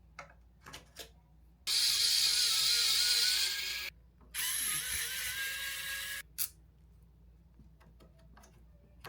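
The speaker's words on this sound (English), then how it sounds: "we need to remove the 4 screws securing the X-axis arm." Screws being removed from the X-axis arm of a Bambu Lab A2L 3D printer: two sustained, loud whirring-rattling bursts of about two seconds each, with a few quiet clicks and taps before and after, and no talking.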